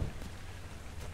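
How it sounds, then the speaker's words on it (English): Steady, soft rain falling in the video game ARK: Survival Evolved, a quiet continuous hiss with no voices. "the fog lifts and a rain begins just as we get home"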